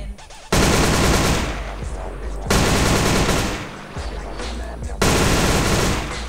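Bursts of rapid automatic fire from a modded SMG in GTA San Andreas, loud and close, in three long sustained volleys separated by brief pauses.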